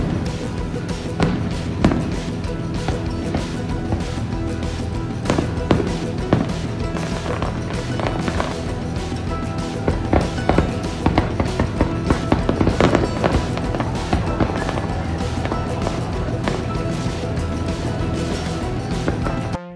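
Fireworks burst over Niagara Falls at night, a loud, dense barrage of cracks, booms and crackling that rolls on continuously for about twenty seconds with no talking.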